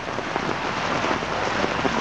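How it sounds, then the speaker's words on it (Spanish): Acidic rain mixed with falling volcanic ash from the Santa Ana (Ilamatepec) eruption, seen from a town street, makes a steady, dense hiss with faint patter and wind, continuous and fairly loud, with no talking. "Podemos observar pues toda la ceniza que está cayendo con esta lluvia tremendamente ácida."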